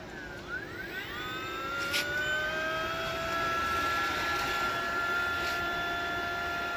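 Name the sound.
electric motor spinning up after controller fitting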